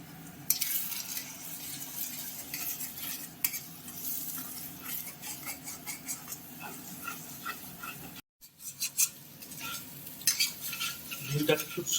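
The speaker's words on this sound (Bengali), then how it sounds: "ডিমটাকে খুব সুন্দর করে ফ্রাই করে নিতে হবে একটু" Egg frying in a pan for a dhaba-style Bengali egg tadka, with a steady soft sizzle broken by stirring and scraping of a utensil, a brief pause near the end, then more clinks and stirring; no talking.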